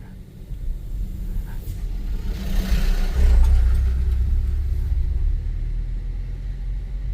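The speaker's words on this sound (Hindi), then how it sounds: "अब ट्रक पे ट्रक जा रहे हैं।" Trucks rolling past on a road during a night drive at Jim Corbett National Park, a deep engine rumble that swells to a heavy peak midway and then fades slowly as the vehicles pass close by.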